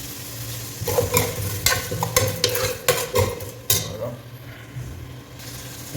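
Cinnamon, cloves and cardamom fry in sunflower oil for chicken dum biryani, with a steady close sizzle broken by repeated scraping stirs and metallic clatters of a spoon against the pan.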